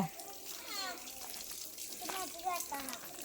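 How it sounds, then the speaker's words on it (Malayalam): Children playing with water, with a steady wash of running, splashing water under their faint, distant voices throughout. "നല്ല വെള്ളക്കളി നടക്കണേ വെള്ളം കൊണ്ട് കളിക്കുന്നുണ്ടോ"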